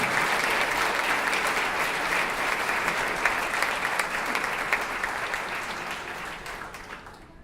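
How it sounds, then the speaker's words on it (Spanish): Steady applause from an audience welcoming harpist Marcos Lucena at a book launch in Asunción, a dense, even clapping that holds strong throughout before slowly thinning toward the end. "Recibimos con un fuerte aplauso al maestro Marcos Lucena"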